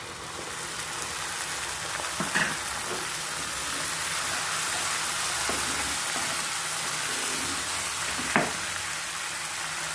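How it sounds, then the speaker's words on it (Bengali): Mustard and poppy seed paste fries with browned onion in a pan for a pabda fish curry, giving a loud, continuous hiss with a couple of brief clinks from stirring. "পেঁয়াজ ফ্রাই হয়ে গেছে, এবার দিয়ে দেব সর্ষে পোস্ত বাটা।"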